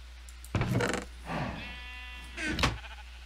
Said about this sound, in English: Oh, some of the sheep are gone.